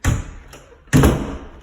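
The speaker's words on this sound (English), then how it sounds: "shut the door" A door in a house is pushed shut with two dull thuds, a softer knock first and then a heavier close-up bang that rings out briefly.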